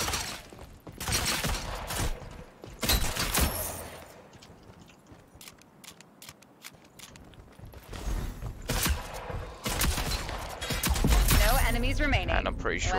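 An automatic shotgun in the video game Rogue Company fires in rapid clusters of sharp, loud blasts in two main bursts separated by a quieter stretch, with someone talking over the action.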